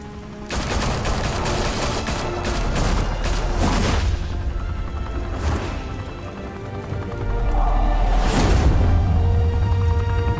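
Gunfire in the video game Batman: The Telltale Series erupts as sustained rapid shooting with sharp cracks and heavy booms over a rumbling background. It keeps going for the whole stretch.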